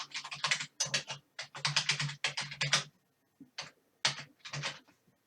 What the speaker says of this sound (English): I'm going to use the keyboard here, but you can equally touch the screen to use the on-screen keyboard